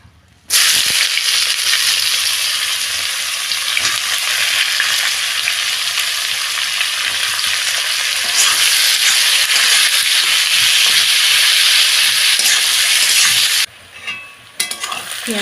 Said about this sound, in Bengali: এবার পেঁয়াজগুলো দিয়ে দেবো।